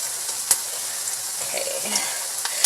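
Salmon croquettes fry in a pan with a steady, soft sizzle, broken by a few sharp pops and faint utensil clinks.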